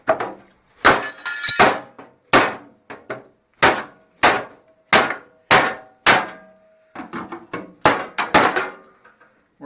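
Repeated sharp metallic knocks as a hammer strikes the aluminum screws on an electric motor from a scrapped temperature control unit, about a dozen loud, close blows in irregular bursts with brief gaps between them.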